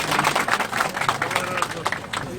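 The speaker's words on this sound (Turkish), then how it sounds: "Peki alkışlıyoruz valimi." Dense crowd applause for the provincial governor at a quince-growing contest in Pamukova, Turkey, with scattered claps and voices mixed in, loud and steady throughout.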